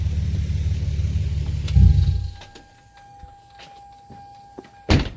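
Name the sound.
car engine being switched off in garage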